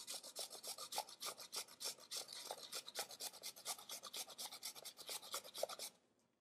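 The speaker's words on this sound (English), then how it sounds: "You can go back and forth, or you can go in circles, however you want to grate." Ginger being grated on a nonstick stainless steel blade grater: a steady run of quick rasping strokes, close and clear, continuing for about six seconds before stopping, with no talking.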